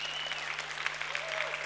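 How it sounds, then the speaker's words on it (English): Brief burst of applause from women in a conference audience, a steady patter of clapping heard at moderate distance with a faint whistle-like tone above it. "Yeah, the women are applauding."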